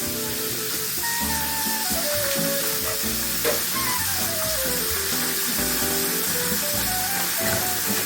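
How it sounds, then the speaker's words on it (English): Fresh-cut potato French fries frying in hot oil, a loud, constant close sizzle and bubbling hiss with faint tonal sounds of voices or music drifting underneath. "start throwing some more French fries in"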